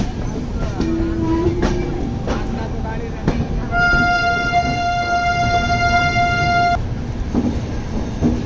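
A train near Itarsi Junction, Madhya Pradesh, rumbles steadily along with a dense, continuous roar, and a long sustained horn blares for a few seconds midway.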